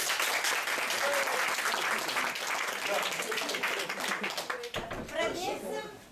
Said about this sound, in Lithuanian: Audringi plojimai